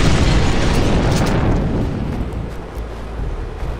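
Grenade explosion in the video game Far Cry 4: a loud, close blast whose rumbling roar fills the first half and then fades into a lingering low rumble, with no talking.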